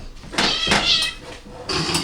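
A house cat meows several times during a family dinner, with short bright calls close by, separated by brief pauses.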